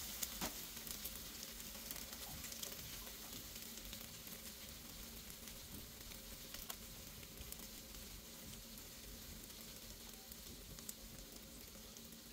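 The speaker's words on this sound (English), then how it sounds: "Listen to the sounds of that frying bacon." Turkey bacon sizzles steadily in a frying pan, a continuous soft crackle and hiss with occasional small pops, fairly faint and close, with no voices.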